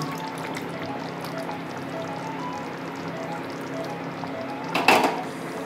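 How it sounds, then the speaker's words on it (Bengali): Meat juice pours steadily into a pot of Sindhi chicken curry, making a soft, continuous trickle at moderate volume. It ends with a brief louder clink of a utensil against the pot. "আমি যেটা করব, এই জুসটা দিয়ে দেব"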